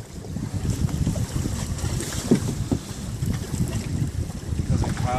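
Fishing boat out on choppy water while salmon fishing, with a steady rumble of engine, water slap and wind buffeting the microphone, and a few faint voices underneath.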